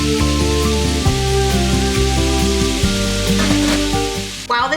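Ground beef, onions and garlic fry in olive oil in a skillet, giving a steady, close sizzle that runs continuously under a musical background.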